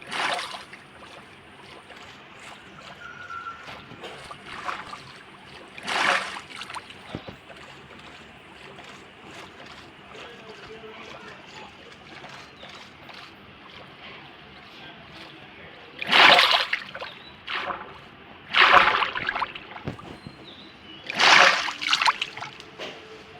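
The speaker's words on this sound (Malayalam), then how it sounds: "ഒരേ ഒരു വഴിയുള്ളൂ, നമുക്കങ്ങോട്ട് വെള്ളത്തിൽ ചാടാം." A character in Minecraft jumps into water and swims, producing several bursts of splashing and sloshing with quieter watery movement between them.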